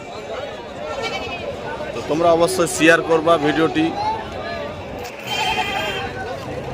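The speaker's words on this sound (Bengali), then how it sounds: "এখানে ভেড়াও পাওয়া যায়, দেখো ভেড়া আছে এখানে" Sheep bleat repeatedly at a village livestock market in Pandua, Malda, loud and close for a few seconds amid crowd babble, while someone talks over the scene.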